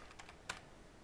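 Short burst of typing on a standard ABNT2 computer keyboard during an Arch Linux install: a few soft, close key clicks with one sharper press, over low background hiss.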